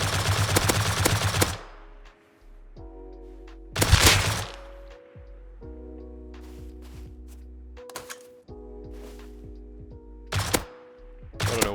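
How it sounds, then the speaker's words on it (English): M2 machine gun fired in the video game Rust, several loud rapid bursts separated by pauses, with ringing metallic reload and handling clicks in between and no talking. "so might as well use the M2"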